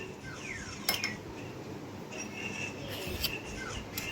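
A metal spoon clinks lightly against a dish in a home kitchen while chicken nugget mixture is prepared, a few faint scattered taps over low room noise.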